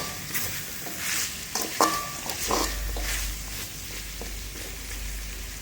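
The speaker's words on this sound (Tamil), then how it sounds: "இப்போ வெட்டி வச்சு தக்காளி பழம் அதையும் போட்டு நல்லா வதக்கணும்." Tomatoes and potatoes for a mutton curry being sautéed in a pan, a steady close sizzle of frying under repeated scraping and stirring of a spoon against the pan, with no talking.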